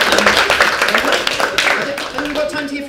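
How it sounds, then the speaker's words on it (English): An audience gives a brief round of clapping, with voices talking over it as the applause tapers off. "Round of applause."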